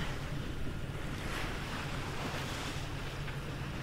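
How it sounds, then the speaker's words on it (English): A sailboat motor sailing at sunrise in about 4 knots of light wind, with a steady low engine drone under continuous wash of waves and some wind noise across the microphone, all even and unbroken. "Got 4 knots of wind, so we're motor sailing"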